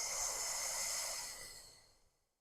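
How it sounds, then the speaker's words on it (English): A long, breathy exhale pushed out through pursed lips, as in a guided Pilates breathing cue, loud and close at the start and fading smoothly to silence over about two seconds. "Big breath out."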